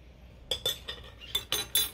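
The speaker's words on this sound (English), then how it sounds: "Just give it a nice stir." A metal spoon stirs Jack Daniels barbecue sauce made with balsamic vinegar, passata and stock in a pot, giving several quiet clinks and scrapes against the side in an uneven rhythm.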